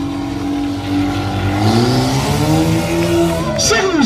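A stunt car at a driving stunt show roars past at high speed, its engine note loud and close with a rising and falling pitch, and a brief tire hiss near the end.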